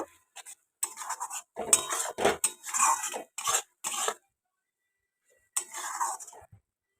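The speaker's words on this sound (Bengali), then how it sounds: "এটাকে কিন্তু ভালো করে একটু মিশিয়ে নিয়েছি একসাথে সব মশলাগুলো একটু কষিয়ে নেব" Spices and green chilli being stirred and sautéed in a pan for capsicum chilli chicken: bursts of metal spoon scraping and clinking against the pan, with a quiet pause before a final stretch of stirring.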